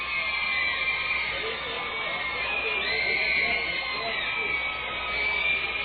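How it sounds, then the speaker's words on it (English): Steady crowd noise of middle school children booing and shouting in the stands at a minor league baseball game, a continuous dense roar from start to finish. "some middle schools are booing the other middle schools"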